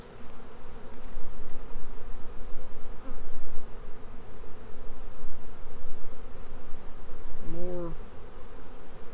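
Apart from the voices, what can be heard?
honey bees buzzing in a nuc hive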